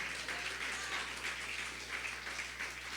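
A church congregation claps in praise, a dense, even patter of many hands sustained throughout, fairly faint and without voices on top.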